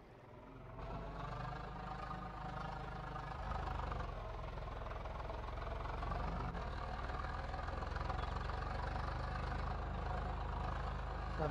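A tractor engine in the farming game Farming Simulator 22 runs steadily with a low, even rumble, holding constant and loud throughout.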